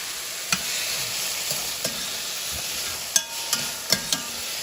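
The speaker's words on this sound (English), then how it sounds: "using the same pan, let's go ahead and saute some pearl onions" Pearl onions sautéing in a pan, a loud continuous sizzle with occasional spoon knocks and scrapes, clustering toward the end.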